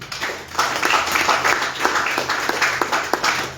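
A church congregation at a Sunday service claps and cheers in praise, a steady, fairly loud wave of applause with crisp individual claps running throughout.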